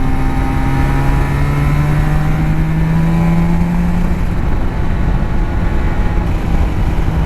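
Suzuki RG500 two-stroke motorcycle fitted with Nikon exhausts, a loud steady engine drone with a slowly sliding pitch, as if passing or holding revs, heard close throughout.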